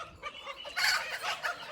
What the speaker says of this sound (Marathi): कोंबड्या लागल्या कोक कोक कोक कोक करायला